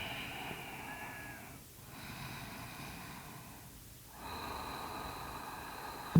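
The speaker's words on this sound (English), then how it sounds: "Keep breathing." Slow, audible breaths during a yoga exercise, with two long inhale-exhale cycles and a fainter pause between them, heard close and quiet with no talking.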